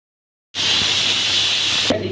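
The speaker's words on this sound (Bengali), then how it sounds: "এই দেখো এখানে রান্না হচ্ছে, মানে মাছ ভাজা" Bhola and hilsa fish frying, a loud, even hiss of hot oil that starts abruptly and holds steady for well over a second before cutting off, close to the listener.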